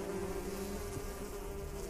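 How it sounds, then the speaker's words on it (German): Bees buzzing in the video game Niffelheim, a steady droning hum that stays close and continuous throughout, with no talk over it. "Ihr doofen Bienen!"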